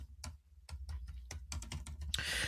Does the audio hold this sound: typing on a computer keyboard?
yes